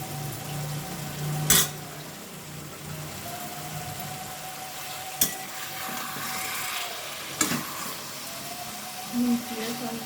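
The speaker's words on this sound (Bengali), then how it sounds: "কাঁচা ইলিশ মাছগুলো আমি আস্তে আস্তে করে এই মশলার মধ্যে আমি দিয়ে দেব। একটু কুক করে নেব" Raw hilsa fish frying in a spice mix, a steady close sizzle running throughout with a few sharp clinks of a utensil against the pan.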